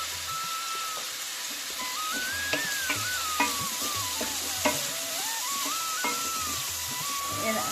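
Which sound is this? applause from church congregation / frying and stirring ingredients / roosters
frying and stirring ingredients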